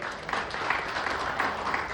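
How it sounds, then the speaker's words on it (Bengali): An audience at an influencer meetup claps in a brief burst of dense applause, moderately loud and even, with a slight roomy wash. "তাই স্যারের জন্য একবার সবাই যাতে হাততালি বাজায়"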